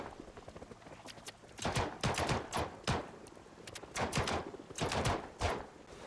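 Gunfire in the zombie survival game Project Zomboid comes as clustered shots, two quick bursts of several sharp, close reports with brief gaps between them. No talking is heard.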